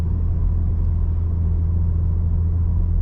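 A BMW G80 M3 Competition xDrive sedan from 2023 cruising, heard from the cabin as a steady low engine and road rumble with no voices.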